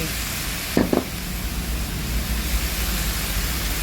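Noodles stir-fry in a pan with minced pork, a dense, loud sizzling roar with a couple of quick scraping strokes of the spatula early on.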